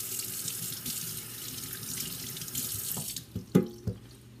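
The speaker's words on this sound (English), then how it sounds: "So let me wash my hands." Water runs steadily from a kitchen tap as hands are washed beneath it, a continuous close splashing that ends with a few sharper splashes and drips as the hands move away.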